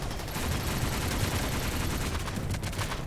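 Shotgun and assault rifle fire in the colony sim Rimworld, a dense, continuous crackle of overlapping shots and bursts, fairly loud and unbroken, with no talking.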